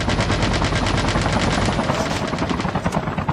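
Dense automatic gunfire in the mobile battle royale game Call of Duty Mobile, loud and continuous for the whole stretch, with rapid bursts rattling close by during a fight over an airdrop, no talk over it.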